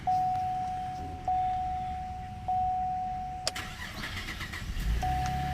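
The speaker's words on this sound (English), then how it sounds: "Car starts just fine." A car engine cranks and starts after a battery replacement, with repeated short warning chimes before it catches and settles into a quiet idle.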